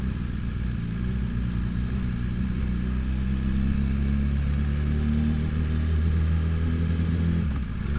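Motorcycles pass on a crowded night street in Seongsu, producing a steady, loud engine rumble with some clatter, heard continuously without talk.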